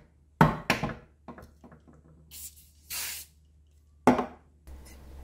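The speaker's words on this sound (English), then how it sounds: "Spray some WD-40 and you're done." WD-40 sprayed onto cleaned, formerly rusty tools, several short sharp aerosol hisses in separate bursts, close and clear against a quiet background.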